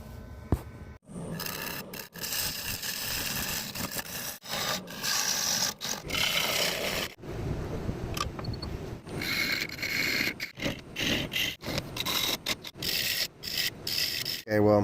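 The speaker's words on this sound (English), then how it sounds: "I'm gonna cut a line on the edge of the bowl right here to define the lip of the bowl" A woodturning tool cuts into the edge of a laminated wood bowl spinning on a lathe, giving a loud close rasping scrape in uneven bursts separated by short pauses.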